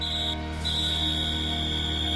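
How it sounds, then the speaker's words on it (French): A referee's whistle signals half-time in an animated football match between Genesis and the opposing side, sounding as one steady, loud high tone that breaks briefly and then holds long, over a continuous backdrop of music and ambience. "L'arbitre siffle la mi-temps sur le score de 2-1 en faveur de Genesis."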